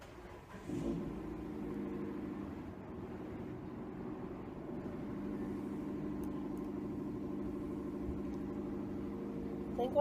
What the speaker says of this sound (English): I think one of my neighbours is gonna like drive past or something.